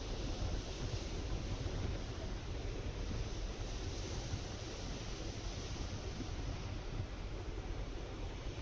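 Ocean waves wash steadily below the deck of a Cordelia cruise ship in India, a constant broadband roar of surf mixed with breezy wind noise across the microphone, unbroken for the whole stretch with no talk.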